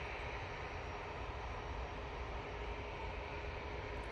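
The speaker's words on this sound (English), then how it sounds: "EasyJet now on short final, coming in from Palma de Mallorca using an A320" An easyJet Airbus A320 on short final approach, arriving from Palma de Mallorca, gives a steady, broadband jet engine roar that holds constant without any talk.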